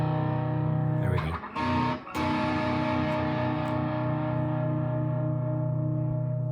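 Electric guitar with a distortion effect plays a solo passage, holding a thick sustained chord that rings on with a brief choppy break near the start.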